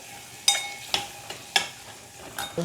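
Green beans and green chillies sizzling in a pan as they are stirred, with a faint steady hiss broken by four sharp scraping clatters spaced about half a second apart, close and fairly loud, with no talking.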